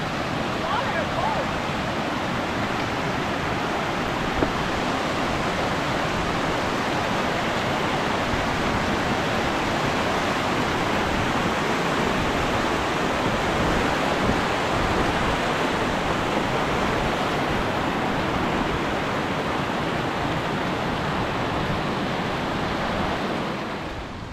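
A mountain creek on the Blue Lakes Trail near Telluride, Colorado rushes in a steady, dense, close wash of flowing water that holds constant throughout, with no voices over it.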